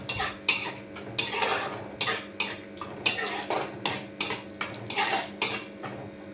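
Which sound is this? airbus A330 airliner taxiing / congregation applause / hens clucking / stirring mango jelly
stirring mango jelly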